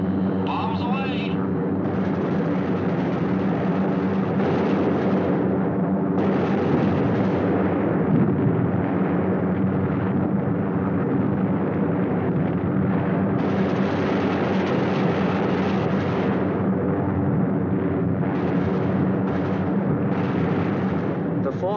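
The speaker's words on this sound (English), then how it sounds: "Bombs away." WWII aerial bombs from a bomber task force bursting on a target at Danzig during a 1944 raid: dense, continuous heavy rumbling and blasts layered over a steady droning roar for the whole stretch.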